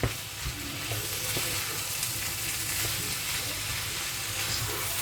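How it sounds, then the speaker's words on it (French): Leftover rice being stirred into a potato gratin mixture: continuous close, wet scraping and mixing with a bright, crackly texture and occasional soft knocks. "Je vais mélanger tout ça."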